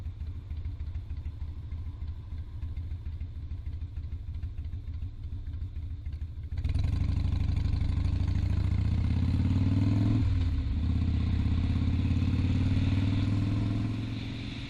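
A motorbike idles steadily at traffic lights, then the engine note jumps as the rider pulls away, revving up through a gear change and settling into a steady drone.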